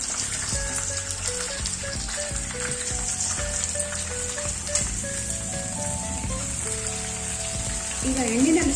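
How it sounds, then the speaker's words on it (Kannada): Brinjal shallow-frying in a little oil, with a steady sizzling hiss running throughout, fairly close and even, while music plays underneath. "ಇದು ಒಂದು ಸ್ವಲ್ಪ ಎಣ್ಣೆನಲ್ಲೇ ಫ್ರೈ ಆಗಬೇಕು."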